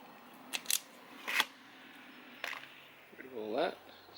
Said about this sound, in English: So I'll just use these wire strippers just to strip the ends off.